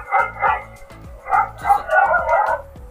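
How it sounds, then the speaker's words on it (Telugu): A dog-barking sound effect plays at the press of a device button: a quick run of about eight sharp, close, loud barks in an uneven rhythm, with nothing else heard. "ఇలా సింగిల్ క్లిక్ చేయగానే మనకి కుక్క అరవడం సౌండ్ అయితే వస్తుంది."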